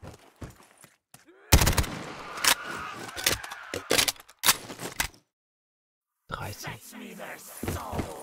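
Bursts of gunfire in a Call of Duty Zombies match on a Goonies-themed restaurant map, rapid loud shots in clusters with a pause of silence, then more firing.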